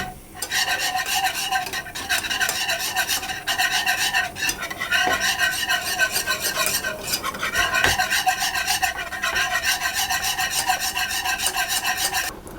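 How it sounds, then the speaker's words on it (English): A whisk scrapes rhythmically around a saucepan of custard mixture heated to a boil until it thickens, a loud, close, continuous rasping stir with brief pauses and no talking. "So I'll whisk that all the time."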